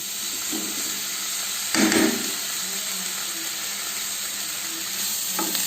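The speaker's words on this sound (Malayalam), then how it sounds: "ഇതിലേക്ക് ഇനി മാസ് ഇട്ട് കൊടുക്കുക." Dried tuna mas dropped into a pan of frying onions gives a sustained sizzle, a louder burst about two seconds in, then steady frying with light stirring scrapes and no talking.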